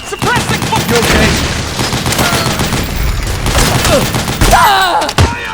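Metal Gear Solid 4: Guns of the Patriots on PS3 fills a battle scene with loud, sustained automatic gunfire and scattered booms, dense rapid bursts throughout with occasional shouted voices mixed in.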